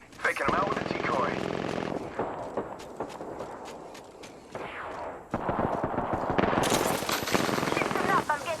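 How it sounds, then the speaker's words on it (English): Rapid automatic gunfire bursts in the Apex Legends video game, loud and repeated, interleaved with footstep-like thuds and game effects across the clip. "Alright, shots fired and they're hitting me."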